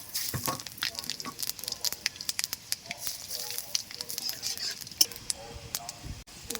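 Whole bay leaves and five-spice seeds crackle and sizzle in hot frying oil, a busy scatter of sharp pops over a steady low hiss, close and moderately loud.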